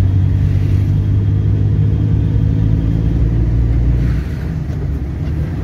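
A car engine rumbles low and steady from inside the cabin as a learner driver picks up speed and shifts into third gear, with the drone easing slightly near the end.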